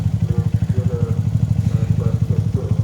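A motorcycle engine warming up before a morning coastal touring ride, idling nearby with a steady, fast low-pitched pulsing throb that holds evenly throughout.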